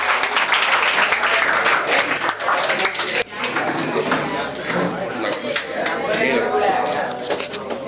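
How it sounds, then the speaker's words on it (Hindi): Loud audience applause welcomes a guest at an annual function and motivation seminar held by a coaching institute, dense clapping mixed with voices and crowd noise that dips briefly midway. "एक बार जोरदार तालियों से उनका स्वागत हो जाए"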